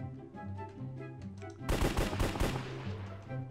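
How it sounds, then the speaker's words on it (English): Rapid burst of gunfire in Minecraft, a dense string of game gunshots rattling off for about a second amid steady background game music. "a lot of gunshots"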